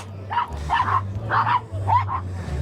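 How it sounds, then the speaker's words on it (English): Several dogs bark and yip excitedly at an outdoor classic and vintage car fun day, giving three or four clustered, fairly close bursts over a low engine-like hum. "some dogs are getting very excited down here"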